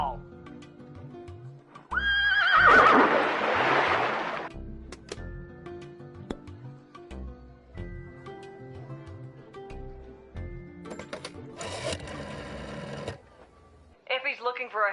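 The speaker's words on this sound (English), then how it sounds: "Yes, I insist the horse get into the water." A horse neighs and whinnies in a water polo match in the video game Lil' Guardsman, sharp and close over a bed of game music, with speech around it and a brief burst of bright noise near the end.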